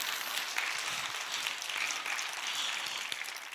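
A church congregation at a sermon in Gwangju Antioch Church applauds continuously, a steady, fairly distant wash of many hands clapping with no break.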